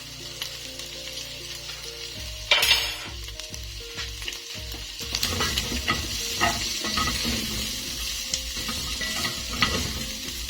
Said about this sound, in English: And then I will add in my garlic.